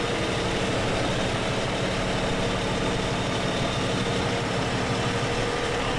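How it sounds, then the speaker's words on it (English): An Oliver 1950-T farm tractor engine runs steadily at low idle while the tractor backs up, a loud, continuous diesel rumble with no speech over it. "Now he's backing the tractor up."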